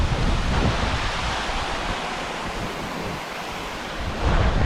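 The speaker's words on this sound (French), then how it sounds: "Vous la voyez la cascade?" A waterfall in a Scottish valley roars as a steady broadband wash. It is fairly loud, with wind buffeting the microphone and a brief surge near the end, and no voices.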